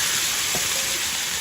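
Ingredients sautéing in a pan for a village-style carp curry, a loud, steady sizzling hiss with a brief stirring scrape, and no voices.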